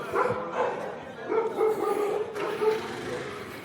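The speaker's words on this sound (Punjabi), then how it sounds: "ਦਰਬਾਰ ਸਾਹਿਬ ਦੀ ਐਂਟਰੀ ਤੇ ਕੁੱਤਿਆਂ ਦਾ ਭੌਂਕਣਾ ਬਹੁਤ ਮਾੜੀ ਗੱਲ" Several dogs barking at night at the entrance of Darbar Sahib, with repeated bursts of barks scattered across the moment, moderately close and mixed with surrounding ambient noise.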